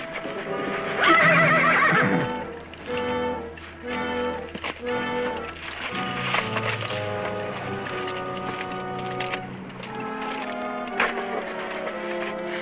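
A horse neighs loudly near the start, followed by rhythmic hooves clip-clopping on hard ground through the rest of the clip, with a western-style musical score playing underneath.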